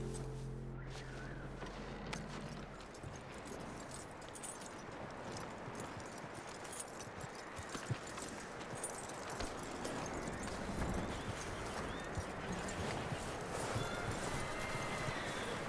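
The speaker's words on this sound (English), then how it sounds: "That looks like a decent horse." Horse hooves clip-clop steadily in Red Dead Redemption 2, a continuous walking rhythm with a brief whinny-like tone near the start, heard alone without talk.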